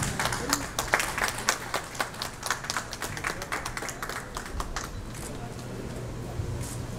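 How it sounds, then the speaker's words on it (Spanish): Applause for Adán Márquez Aparicio at a ceremony handing out late-registered birth certificates to adults in Tihuatlán, scattered claps rising and thinning over a low steady hum, with voices in the room. "Fuerte el aplauso para Adán."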